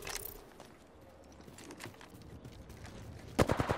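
Rapid bursts of automatic gunfire from an Apex Legends match, a quick rattling volley near the end after quieter in-game ambience.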